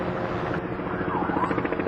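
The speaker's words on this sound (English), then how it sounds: "Here's the helicopter." Steady rumbling rotor noise from a helicopter flying overhead at a rally fills the scene, continuous and fairly loud, with a faint voice beneath.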